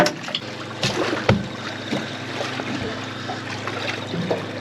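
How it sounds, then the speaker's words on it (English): A pump runs on a fishing boat, pouring water over freshly caught fish in a steady wash, with a few knocks and thumps against the hull. "Put the pump on and keep the water going on them."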